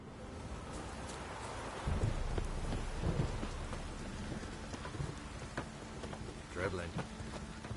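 Steady heavy rain pours in Witcher 3, with low rolling thunder swelling a couple of times beneath the continuous hiss of the downpour.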